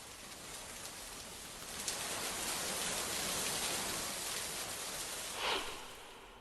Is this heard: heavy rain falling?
yes